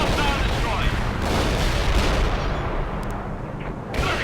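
Heavy artillery in a war video game pounds away in rapid, overlapping booms, loud and rumbling throughout. A voice speaks over the barrage.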